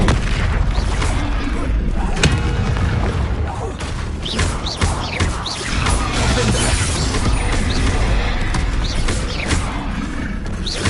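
Spell effects in the video game Hogwarts Legacy: dense magical blasts, whooshes, crackles and booming impacts layered over an ongoing combat soundscape, with a voice casting spells.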